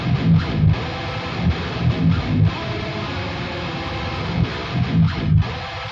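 Heavily distorted, brutal electric guitar tone from an album recording, playing chugging palm-muted bursts with dense low-end attacks in a steady rhythmic pattern, loud and upfront with no talking.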